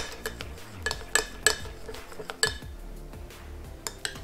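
Slime made from shampoo and salt being stirred in a bowl, with a utensil clinking against the bowl in several sharp, close taps scattered over a soft, wet stirring background.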